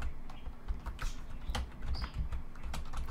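Fast, irregular clicking of keys on a computer keyboard while writing C++ code, soft and close, with bursts of sharper taps and no talking.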